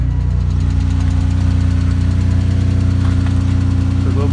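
The engine of a car bought at a salvage auction idles loud and close with a slight tick, a steady, even running drone with a faint repetitive knocking texture throughout.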